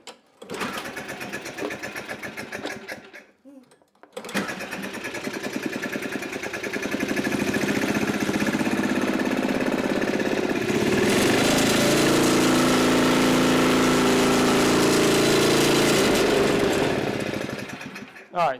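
A neglected Craftsman snowblower is pull-started; after a few short pulls and a pause, the engine catches and runs loud and rough at close range for the rest of the clip.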